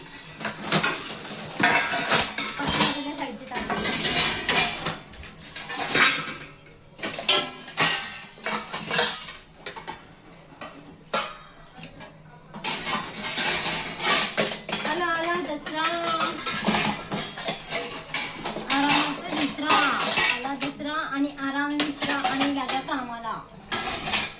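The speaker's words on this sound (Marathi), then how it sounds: "आता भांडे लावायचं काम चालू झालं" Steel pots, dishes and cutlery are stacked into kitchen trolleys after cleaning, with repeated clanks, clinks and metallic rings in uneven bursts and short pauses, close and loud, with some talking in between.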